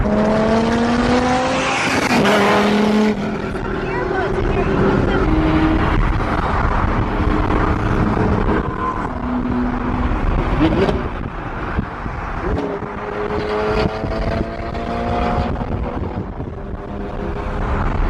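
A loud supercar engine, a Pagani hypercar, roars and revs continuously at close range, with rising and falling engine tones and wind buffeting the microphone throughout.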